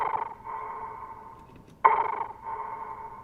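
Serum synth effect tone with a filter swept by LFO automation, a sustained bright electronic hum that fades and swells, then cuts in sharply again midway, heard alone with no voices.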